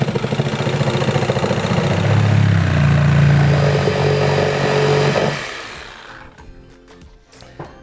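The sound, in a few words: Sawzall reciprocating saw cutting outlet box hole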